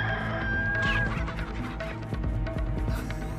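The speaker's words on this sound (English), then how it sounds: "Do I have to catch the chicken?" Chicken clucking in Resident Evil 4, a steady run of close, loud clucks and squawks over a constant game backdrop of music and ambience, with no talk.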